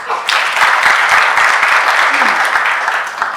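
Audience at a freelancer award ceremony applauding, a loud dense burst of many hands clapping continuously for several seconds, fairly close, with a voice briefly heard under it.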